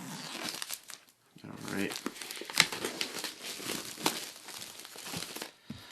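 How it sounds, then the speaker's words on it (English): Plastic shrink wrap on the Etherfields board game box by Awaken Realms is cut and peeled open, giving close crinkling and tearing with short pauses while someone speaks softly. "This has some seams, so let's kind of carefully cut that open."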